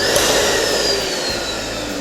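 A balloon sizing machine blows a balloon up with a loud, steady blowing whoosh of air that stays constant for the whole two seconds and thins slightly toward the end.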